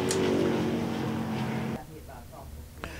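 A loud, steady race car engine drone at Devil's Bowl Speedway fills the first half, then cuts to a quieter idle with faint revs and a brief sharp burst near the end.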